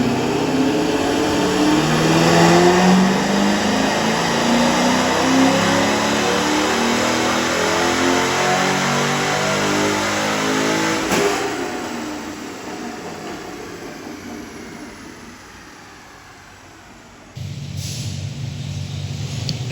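A C6 Corvette drift car with a base LS2 V8 revs loudly up close, a sustained rising engine roar that eases off and drops before the revs pick up again near the end, with no voices.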